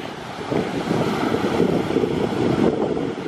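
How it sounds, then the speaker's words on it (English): Large ocean waves surge and crash in a broad, rolling roar, heavy wind rumbling against the microphone over it. "Oh, here comes some big waves."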